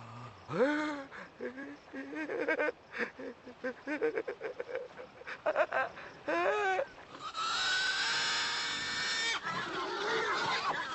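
A herd of pigs grunts and squeals in quick irregular bursts, some calls rising sharply in pitch, followed by a rushing wash of noise like a stampede.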